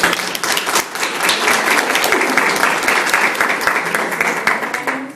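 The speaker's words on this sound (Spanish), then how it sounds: "pido un aplauso para ella." Warm applause from an audience at a university forum on Puerto Rico's economy and the UPR, honoring Dr. Marta Quiñones: dense, steady clapping from many hands, loud and continuous, tapering slightly at the end.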